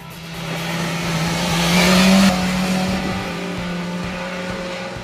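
A BMW S1000 XR motorcycle is ridden in a continuous engine drone that swells in pitch and loudness midway as it accelerates past, then settles back, with no speech.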